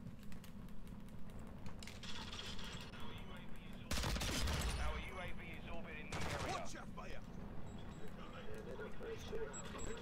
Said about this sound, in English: three headshots in a row with the Magnum